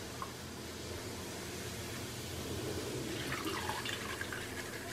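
Roasted chana dal frying gently in oil on a low flame, a soft, steady sizzling hiss that brightens slightly toward the end, close and quiet with no talk.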